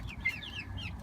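Young backyard chickens in their newly built two-floor chicken house make a steady string of soft, high clucks and peeps. The calls are close and fairly quiet, with no talking.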